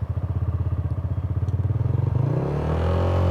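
A KTM 690 SMC supermoto fitted with an Akrapovic exhaust, ridden at night. It thumps at a rapid single-cylinder idle, then revs up into a smoother rising drone. The bike is close and loud.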